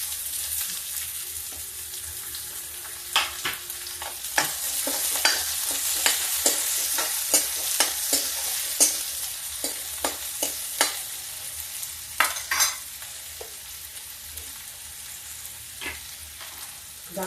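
Sliced onions go into a hot pan of garlic and fry with a steady sizzle while a spoon repeatedly scrapes and stirs, making clustered clinks and knocks in the middle of the stretch before the sizzle carries on alone.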